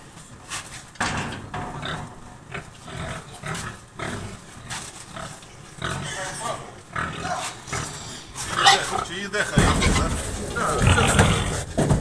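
Pigs grunt and snort intermittently among people talking and shuffling as they are taken away by buyers, growing louder and busier toward the end.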